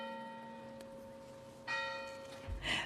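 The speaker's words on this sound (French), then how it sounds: "À tout à l'heure, Marc, on entendait la cloche sonner du petit village de Méhoun." A church bell rings in the small village of Méounes in the Bas-Var, its tone sustained and ringing steadily with a fresh strike partway through, fairly distant.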